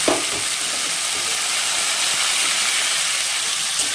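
Potatoes and seeds fry in a hot pan with a loud, continuous hissing sizzle that holds steady throughout, heard close up with no voices.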